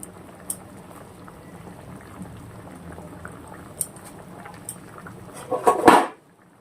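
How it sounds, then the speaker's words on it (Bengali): Water boiling in a pot for a pangas fish curry, a steady low bubbling simmer with a few light clinks, ending in a louder burst of clatter and splashing. "জলটা ফুটে গেছে"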